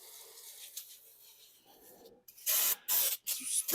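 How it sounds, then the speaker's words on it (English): Shop work on a part during a thermostat swap: quiet rustling and handling give way to loud bursts of spray hissing in three or four pulses with short gaps, fairly close. "sprayed off here a little bit"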